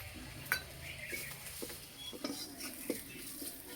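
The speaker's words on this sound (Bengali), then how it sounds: "মশলা কষানো হয়ে গেছে, খুব সুন্দর একটা গন্ধ বেরিয়েছে" A spatula scrapes and clinks against a pan as ground turmeric, coriander, cumin, chilli and garam masala are sautéed with green chillies; a faint, soft sizzle runs under irregular stirring knocks.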